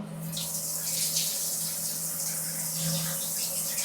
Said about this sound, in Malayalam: ഓക്കെ അപ്പോൾ ഏതായാലും നമുക്ക് ക്ലീൻ ചെയ്ത ഏരിയ ഒന്ന് വെള്ളം ഒഴിച്ച് നോക്കാം